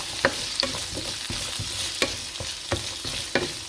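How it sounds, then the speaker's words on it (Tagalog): Carrots fry in a pan under a steady, close sizzle. Regular stirring strokes knock and scrape through it about every half second. "ito naman ang carrots ang ating piprito"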